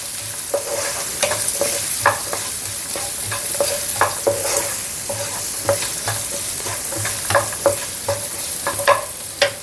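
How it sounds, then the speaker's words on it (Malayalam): Onions frying in a pan for gobi manchurian, a steady loud sizzle with frequent rhythmic scrapes and taps of a spatula stirring throughout. "സവോളയും കൂടി ഇട്ട് കൊടുക്കാം. ഇതൊന്നും വേഗണ്ട, ഒന്ന് വാടി കിട്ടിയാൽ മതി."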